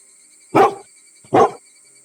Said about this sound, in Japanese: 遠くでタケルの吠える声が届きました